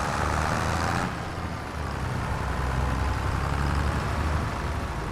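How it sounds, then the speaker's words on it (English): A car in Farming Simulator 25 drives behind the player's vehicle, a low steady engine rumble under the constant drone of the player's own machine, with no talking. "I hear a car behind me."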